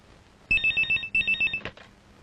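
A telephone rings in a comedy film scene: two loud, close bursts of rapid electronic trilling pulses, each roughly half a second long, separated by a short gap, with no talking.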